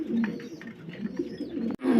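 Pigeons at a fancy pigeon farm in Faridpur, Bangladesh, coo in a steady, close, low murmur with overlapping throaty calls, broken by a short gap just before a louder burst of cooing resumes.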